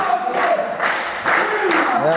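A wrestling crowd cheers for Cliff Harrison during his match against Ed Havoc, with loud rhythmic surges of shouting and chanting rising and falling every half second or so.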